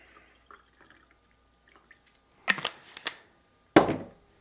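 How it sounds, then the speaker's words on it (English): Soda water is poured into a glass holding strawberry syrup for a champagne soda. After a mostly quiet stretch, brief splashing, fizzing bursts arrive close by near the end. "Then carefully add your soda water."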